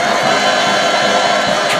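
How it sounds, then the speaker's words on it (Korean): A huge crowd in Pyongyang roars with steady, loud cheering as the leader arrives by train, forming a dense, unbroken wall of voices with no pauses. "만세 폭풍 같은 환호성이 평양 하늘가를 가득 채우며"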